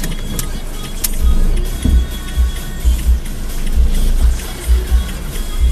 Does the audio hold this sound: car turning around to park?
yes